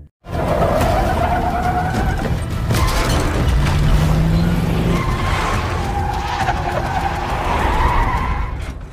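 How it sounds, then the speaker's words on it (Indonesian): Tires squeal and skid as a car speeds off in a movie chase scene, with loud, sustained engine roar and screeching throughout and no talking. "langsung mengejar mobil yang ditumpangi Nora dan Andreas"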